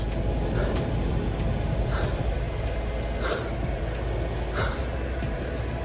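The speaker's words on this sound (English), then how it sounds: "That is the sound of the maximum amount of air conditioning that this vehicle can exert." Steady loud rush of a car's air conditioning at maximum fills the cabin, a constant broadband whoosh with faint periodic breathy puffs on top.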